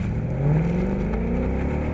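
A 2015 Mustang GT with its new 5-liter engine revs, a loud low growl rising in pitch and then holding steady, up close with no talking.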